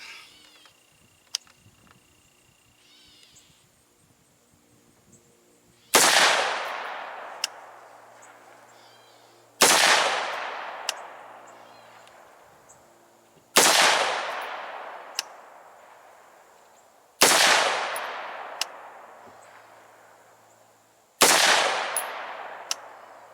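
Pistol-build rifle firing Hornady 55 grain VMAX rounds at targets, six loud, sharp single shots spaced a few seconds apart, each followed by a long ringing decay, with no talking.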